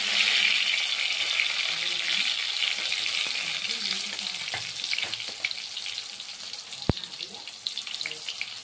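Dried red chillies and bay leaves frying in hot oil for a Bengali bottle gourd greens dish, a steady bright sizzle with a few small pops and one sharp tap partway through, close and continuous.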